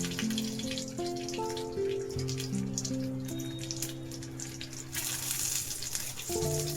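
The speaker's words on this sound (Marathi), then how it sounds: "आपले कांदे पण फ्राय झाले बघा" Onions fry in a pan with a soft, continuous crackling sizzle, heard close and fairly quiet, while a low tonal hum runs underneath; no talking.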